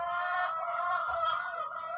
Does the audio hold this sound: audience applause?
no